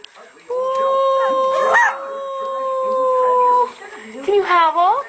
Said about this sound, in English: Can you howl?